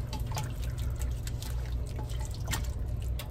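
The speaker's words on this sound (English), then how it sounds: "And we're gonna give that a stir." A pot of Hungarian goulash, just topped up with water, is stirred and gives close, wet sloshing and dripping splashes with brief clinks in an uneven rhythm; no talk.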